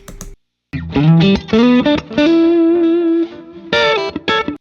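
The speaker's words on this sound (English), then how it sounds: "this is the Dano neck now" Electric guitar through a Danelectro neck pickup with an EP Booster, loud and distorted, playing chords and a sustained note with chorus-like shimmer, stopping briefly near the start before strumming on.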